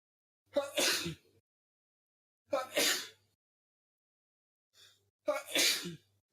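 Three loud sneezes burst out one after another, each separated by a couple of seconds of silence, with a faint breath before the last.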